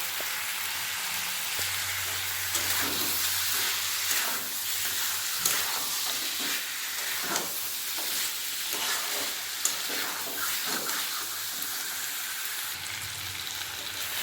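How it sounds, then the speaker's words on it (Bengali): Ginger sizzling and frying steadily in a pan while a mutton dish is being cooked, with occasional stirring scrapes and a continuous crackling hiss throughout, no voices. "আদা ভালো করে ভেজে নিয়েছি"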